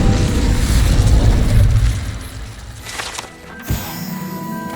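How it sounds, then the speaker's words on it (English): An Incendio fire spell bursts in the Hogwarts Legacy video game, a loud, dense rumbling blast that fades over a couple of seconds before a sharp hit and ringing magical tones follow. "Incendio."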